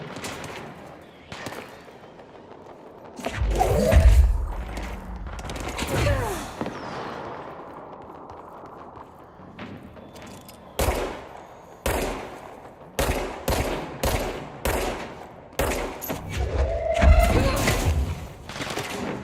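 Gunfire in the game Control, sharp bursts and single shots scattered across the stretch, some heavy and booming, others quick rapid volleys, loud and close with rhythmic gaps between clusters.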